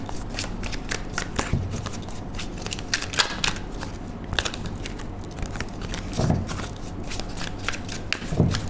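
Tarot cards being shuffled and drawn, a dense run of papery riffles, flicks and slaps, close and fairly loud, continuing steadily with a few sharper snaps, no speech.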